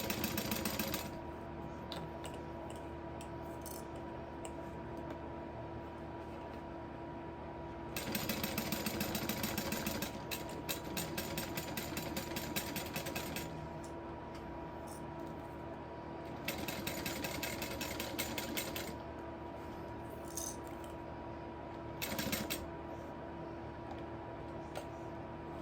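A sewing machine stitches leather for a sling bag in a quiet workshop, running in long steady stretches that alternate with quieter pauses of lighter mechanical hum.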